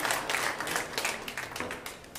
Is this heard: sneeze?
no